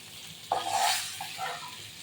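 Fish sizzles in a hot pan as it is stirred, a sharp burst of crackling followed by softer frying.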